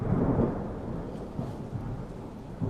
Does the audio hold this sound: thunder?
yes